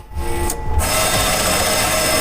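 A steady, loud mechanical grinding and whirring of a drill bit boring out a spot weld in the sheet metal of a BMW E46, running continuously without pause.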